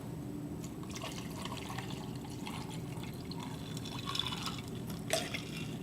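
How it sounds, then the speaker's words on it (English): Water is poured into a glass beaker holding ice, a continuous soft splashing trickle with faint clinks, steady and close, with no talking over it. "I've got a beaker with some ice in it, and I'm gonna put some water in it."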